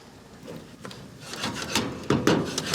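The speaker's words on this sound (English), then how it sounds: "then we're going to add in our pancetta. Stir it up." Brussels sprouts and pancetta stirred in a pan for a grilled gnocchi dish, giving close scraping, rubbing strokes of a utensil against the pan that grow louder and more frequent toward the end.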